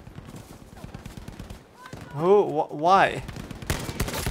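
Rapid bursts of gunfire from a gun picked up off an enemy in a shooter video game rattle through the opening seconds, followed by a voice talking over game sounds.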